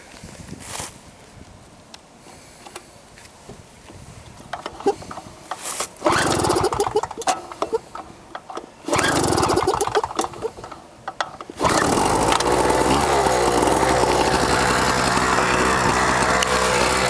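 A small portable generator pull-started on a cold start: a few rattling recoil pulls with ratchety mechanical clatter, then the engine catches and settles into a loud, steady running drone close by.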